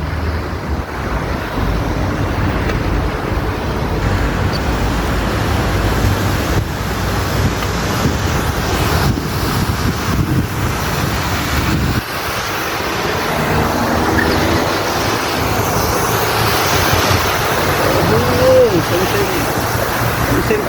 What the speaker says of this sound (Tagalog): parang dagat oh